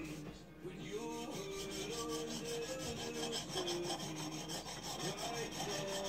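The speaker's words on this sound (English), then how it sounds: "let's give it some more work on this coarse stone because this has the usual pits you'd find" A blade worked on a coarse Baryonyx 'American Mutt' sharpening stone makes a steady, continuous rasping rub, close and fairly quiet, with repeated back-and-forth strokes and no talk.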